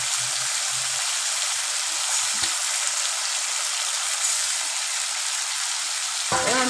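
Masala spices sizzle steadily in a hot pan while cooking a rohu fish curry, a constant close frying hiss with a few faint stirring clicks and no voices.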